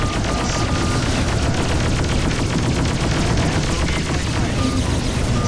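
Continuous weapons fire and missile hits in the space combat game Freelancer with the Crossfire mod, a loud unbroken barrage of rapid shots over a dense rumbling roar.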